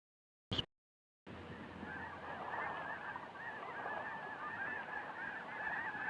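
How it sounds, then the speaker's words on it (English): Waterfowl honk in open tundra, recorded for a 16mm educational film: a short call, then a continuous chorus of overlapping goose-like honks at moderate distance. "waterfowl migrate thousands of miles to raise their young in the tundra."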